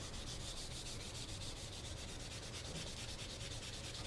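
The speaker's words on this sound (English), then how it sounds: "Wherever you had your repairs, lightly sand over those first." Filler repairs on a wooden gun stock are lightly sanded by hand, a continuous close scratchy rubbing in quick even strokes, alone without any voice.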